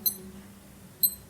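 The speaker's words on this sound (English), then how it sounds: "until you hear this high beep sound like this" A Casio A178WA digital watch gives two short, high, thin beeps about a second apart, crisp and close against a quiet background.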